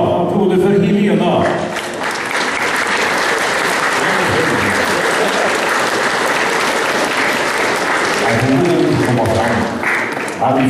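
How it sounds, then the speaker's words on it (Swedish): Audience applause inside a church at an Elvis tribute event, a sustained, loud roar of many clapping hands that swells and holds for several seconds, with a voice speaking briefly at the start and end. "Applåder för Helena."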